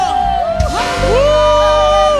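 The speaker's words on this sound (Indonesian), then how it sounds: "sorak-sorai bagi Tuhan, katakan haleluya" A church congregation at a Sunday worship service in Medan cheers and whoops in praise, a loud burst of shouting voices that erupts and sustains over a continuing musical tone.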